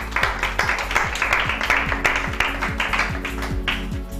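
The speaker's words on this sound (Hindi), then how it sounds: "आप लोगों की भरपूर तालियों के साथ" Crowd applause on a weekend entertainment show, a thick, continuous patter of clapping at steady volume over a repeating swooping electronic tone in the background.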